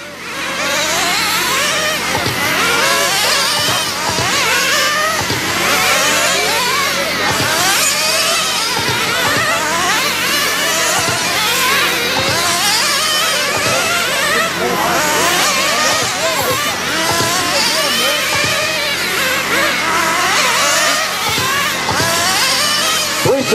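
Nitro RC cars race in a sprint main event, their small engines screaming in a loud, continuous, overlapping buzz that rises and falls as the cars accelerate and brake around the track.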